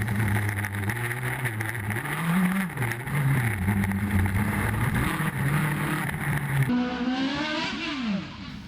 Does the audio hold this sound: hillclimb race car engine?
yes